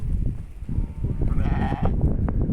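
A single sheep bleats once partway through on a farm where the flock is free of scab this year, a wavering call rising over a steady low rumble of farmyard noise.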